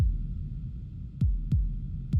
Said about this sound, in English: this is our first kick